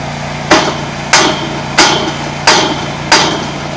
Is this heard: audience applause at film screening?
no